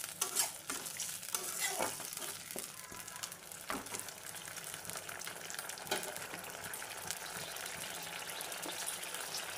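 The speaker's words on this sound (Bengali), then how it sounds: "তো মশলাটাকে আমি একটু ভালো করে কষিয়ে নেবো নাড়াচাড়া করে" Spice paste for a fish-head muri ghonto stir-fried with a splash of water, a dense continuous sizzle and bubbling with spatula scrapes throughout, close up and without speech.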